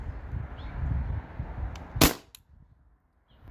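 A modified Valken M17 paintball marker fires a single sharp shot through a chronograph at about two seconds, a loud crisp crack over a low background rumble, then quiet.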